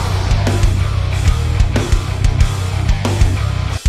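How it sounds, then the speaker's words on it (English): Programmed drums from the Get Good Drums Invasion library, loud and dense with punchy kicks and snare hits driving under a full, continuous mix, ending abruptly. "currently I used Get Good Drums Invasion for the drum programming"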